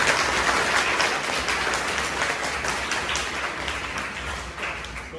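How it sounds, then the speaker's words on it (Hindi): Students at a girls' school in India applaud their teachers, a dense, steady wash of clapping from a large group that stays fairly even throughout, slowly easing off toward the end. "तो एक बार अपने टीचर्स के लिए तालियां बजा दो।"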